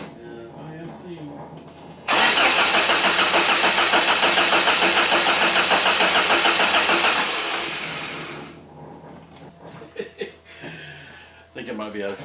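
A 1994 Saab 9000 with a no-start fault cranks loudly and steadily for about six seconds without catching, then winds down; someone talks before and after.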